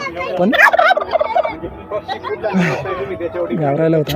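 Poultry at a large agricultural exhibition give loud gobbling and clucking calls, close and repeated, mixed with people talking nearby.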